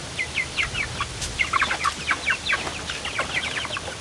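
Backyard chickens cluck in quick, scattered bursts, a small flock calling close by at moderate volume with no talk over them.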